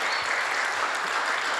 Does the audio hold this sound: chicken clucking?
no